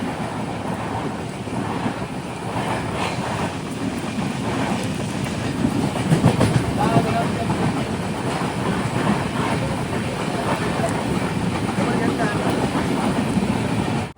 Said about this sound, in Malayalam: ട്രെയിൻ ഇപ്പോൾ ബിൻഹെരെ സ്റ്റേഷനിലെത്തി